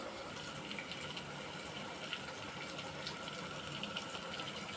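Tap water runs steadily into a sink while dried fish is rinsed and cleaned for a Tamil dried-fish curry, a constant close gush with no speech.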